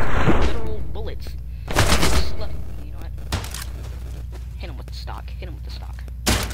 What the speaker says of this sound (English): Okay, let's shoot this guy.